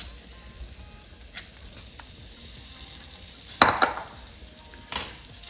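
Mushroom tikkas are shifted into a bowl: a few sharp clinks and scrapes of utensil against dish stand out over a quiet low hiss, spaced irregularly and close by.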